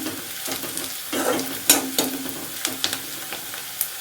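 Potatoes tipped into a pan of onions fried until pink, for a broccoli and potato sabzi, set off a steady close sizzle broken by scraping stirs and a few sharp clatters.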